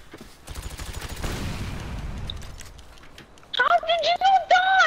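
Gunfire from a gun in Grand Theft Auto V: a run of rapid shots crackles at moderate loudness, then fades before someone speaks excitedly over the top near the end.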